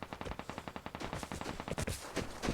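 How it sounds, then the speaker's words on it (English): A rapid burst of gunfire in the video game Vigor crackles in quick succession, then more scattered shots follow, sharp and fairly close. "those are gunshots that are definitely near that airdrop"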